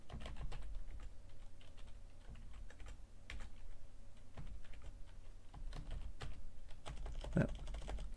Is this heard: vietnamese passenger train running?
no